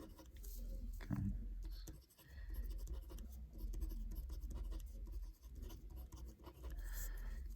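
Pen writing on paper while a loading chart for a beam problem is filled in, a close scratchy scrawl in short strokes with brief pauses between them, no talking.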